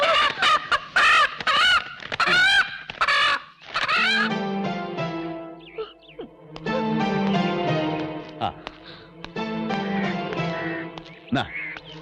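Chickens squawk and cluck loudly and frantically at close range, in agitated bursts, while voices talk amid the commotion.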